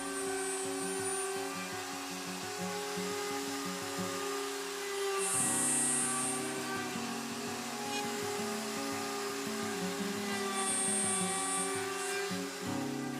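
A power router guided by a dovetail jig template cuts through-dovetail tails in wood, giving a steady, loud, high whine. The pitch dips and shifts as the bit bears into the workpiece, with no talk.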